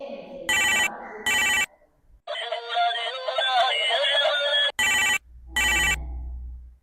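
Telephone ringing over a speakerphone, heard as two pairs of loud, bright electronic ring bursts with a stretch of tonal ringback or hold audio between them, and a low hum under the final ring.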